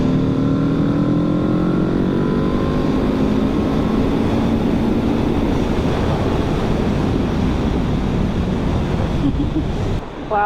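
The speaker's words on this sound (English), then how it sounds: "That sounds good, and that is a stock exhaust." A 2024 Aprilia RSV4 sport motorcycle on its stock exhaust pulls hard under throttle through long gears, a loud, steady engine roar with rising tones and heavy wind rush, close, no talking.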